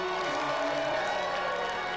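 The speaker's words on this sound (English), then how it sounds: "So let's another round of applause for our final special guest of the series, Janick Gers." A dense TV studio audience roars with cheering and applause for guest Janick Gers, steady and loud throughout, with whoops rising over the clapping.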